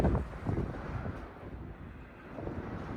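Wind gusting around a gondola cabin with broken-out window panes on Stratton Mountain on a cool day, a low, steady rumbling buffet against the microphone with no talk.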